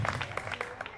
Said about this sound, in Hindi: एक बार फिर से ताली बजाइए